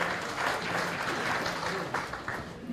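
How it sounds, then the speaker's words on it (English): A classroom group claps during a lesson on rates and invoices, a dense round of applause running throughout at moderate level, with faint voices mixed in. "give me a round of applause"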